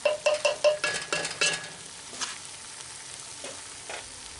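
Chorizo chili in a Dutch oven, with a run of quick metallic clinks from a spoon against the pot at first, then settling into a soft, low bubbling simmer.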